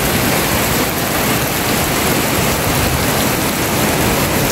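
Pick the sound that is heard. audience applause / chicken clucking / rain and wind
rain and wind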